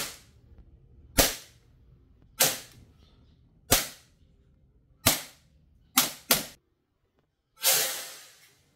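An airsoft gun fitted with a tracer unit fires sharp, close pops about once a second, with a quick double shot near the end and then a longer hissing burst.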